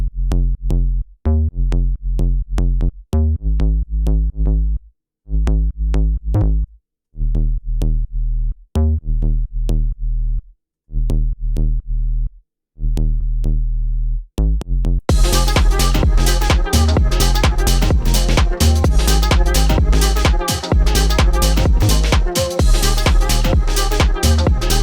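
A synthesized chord progression made for a track. It starts as choppy rhythmic chord stabs, then a full dense mix with drums and bass joins partway through, loud and continuous.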